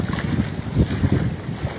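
Tidal floodwater from Cyclone Yaas surges into the town of Digha as a continuous rushing wash of water under strong, gusting wind buffeting the microphone, close and loud.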